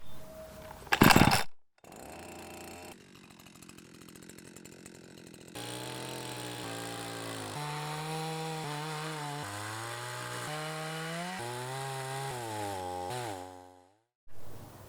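A chainsaw mill makes a test cut through wood: a sharp burst, then the saw idling, then a long steady high-revving cut with a wavering pitch as it bites, ending abruptly with a brief rev after.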